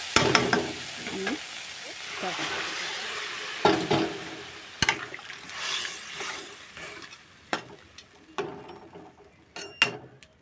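Ingredients frying with spice masala in a pan for a Bengali fish curry with drumsticks: a soft, uneven sizzle broken by sharp scraping and clattering strokes of stirring, with no talking.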